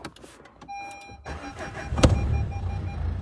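A Renault Grand Scenic with a 1.5 diesel engine cranks and starts, a brief starter burst followed by the engine settling into a steady close idle after a few faint clicks and a chime.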